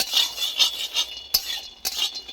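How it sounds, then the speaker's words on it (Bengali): Peanuts stirred in a dry wok for momo chutney give a run of rhythmic scraping rattles with a couple of sharper metallic clinks, close and moderately loud, with no voices. "মোমো চাটনির জন্য এইভাবে শুকনো কড়াই বাদামটাকে আগে এইভাবে নেড়ে নিতে হবে।"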